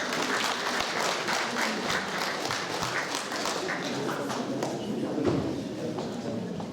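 Guests at a charity ball applauding, a sustained even crowd clap with individual claps audible, moderately distant and steady throughout.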